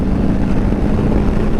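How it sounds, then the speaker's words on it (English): A 2022 Harley-Davidson Sport Glide V-twin engine is revved with the throttle, a loud, dense, steady roar heard close up with no talking. "I'm going to turn the throttle, listen to the engine go."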